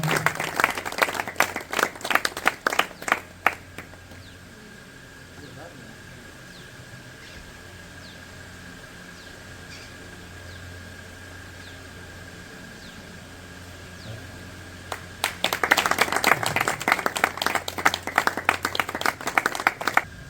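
An Independence Day programme audience at a drug rehabilitation centre in India applauds to welcome the village head. A burst of brisk clapping dies away into quiet murmur, then a second strong round of applause comes after a long pause.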